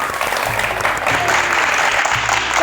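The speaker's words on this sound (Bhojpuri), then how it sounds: "और एक थे झन्नाटेदार ताली हो जाए अपने खातिर।" An audience at a folk music stage programme breaks into loud, sustained applause, a dense wash of clapping filling the whole stretch, with no speech over it.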